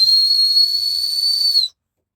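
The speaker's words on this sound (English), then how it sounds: "That is a really good whistle." A whistle on a Naturehike backpack is blown in one loud, piercing, steady blast lasting under two seconds, then cuts off into silence.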